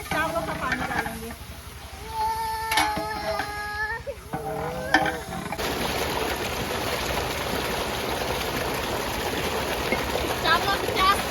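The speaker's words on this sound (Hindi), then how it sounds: "20 लीटर पे चावल धो रही हूँ" Rice is washed in a large 20-litre batch of water, a steady rushing, sloshing wash that fills the second half after a stretch of talking over kitchen clatter.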